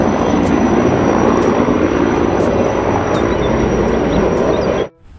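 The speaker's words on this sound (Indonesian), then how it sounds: "Wow, ini ada helikopter." A toy helicopter gives off a loud, steady whirring roar like an aircraft engine, continuous for about five seconds before cutting off abruptly.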